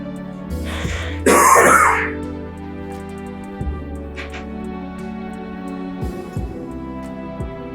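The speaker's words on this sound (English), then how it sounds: "Coughing in public." A person coughs and clears their throat in a short, loud burst, followed by softer throat sounds over a low steady hum in a quiet room.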